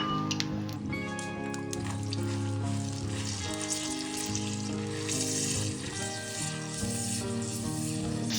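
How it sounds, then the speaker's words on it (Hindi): Two large onions ground to a paste sizzle and fry steadily in hot cooking oil for a chicken shorba, a continuous close crackling hiss with dripping liquid textures and no talk. "कुकिंग ऑयल मेरा गर्म हो चुका है, अब इसके अंदर मैं प्याज डालता हूँ।"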